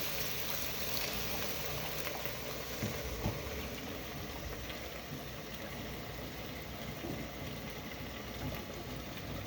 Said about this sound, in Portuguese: Então eu vou deixar ele aqui refogando, pegando o saborzinho dos temperos